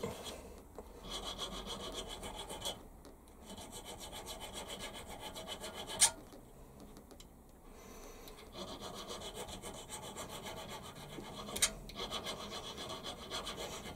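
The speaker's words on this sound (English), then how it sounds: "Just give myself a couple of flat sides on here with a needle file." A needle file rasps flat sides onto a small steel watch hand removal lever in quick, quiet strokes, pausing now and then, with a couple of sharp clicks between bursts.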